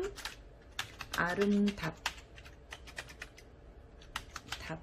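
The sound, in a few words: typing on a computer keyboard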